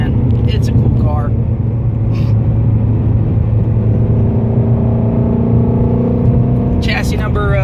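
A 2016 Shelby GT350 Mustang cruises along a rural country road, its steady engine drone and tyre roar loud and continuous throughout, with faint rising whines of acceleration near the start and end.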